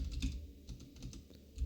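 A short burst of keystrokes as a command is typed on a computer keyboard, quiet, close clicks coming in a quick uneven rhythm with no voice over them.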